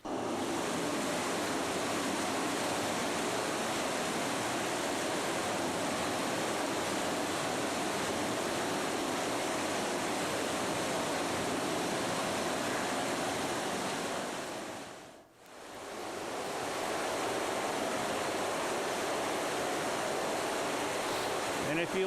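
The Town Branch stream flows out from downtown Lexington, a continuous loud rushing wash of water with wind buffeting the microphone and a brief dip partway through.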